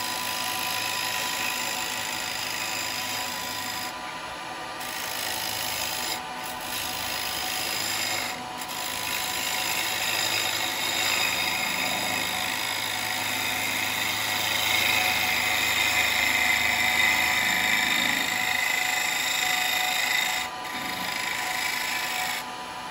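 Wood lathe turning a small wooden cowboy hat with a carbide chisel: a steady, loud broadband scraping and whirring cut that runs throughout, with brief dips where the tool lifts off the spinning wood.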